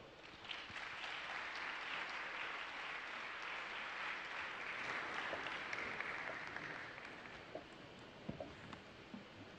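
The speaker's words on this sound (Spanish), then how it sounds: "Les pido un aplauso para ella." A conference audience at a forum panel applauds a speaker with sustained, fairly quiet clapping that swells slightly midway and thins toward the end, a few sharper individual claps standing out near the close.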